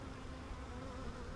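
Honey bees hum in an open hive during a March inspection, a close, continuous low buzzing drone from many insects with no voices.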